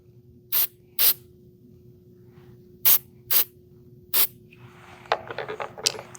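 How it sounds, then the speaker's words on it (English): An aerosol can is sprayed onto a ring being made on a lathe after gluing. Five short, loud hissing bursts come close up with pauses between them, followed by faint rattling and scraping. "So I'm just going to give that a spray."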